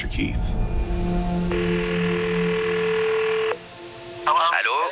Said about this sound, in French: lui demander s'il acceptait d'appeler le pasteur Keith sous un faux prétexte